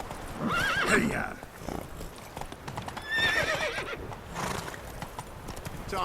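Horses in The Witcher 3 game, two loud whinnies with hooves clip-clopping beneath, close and clear over faint background talk.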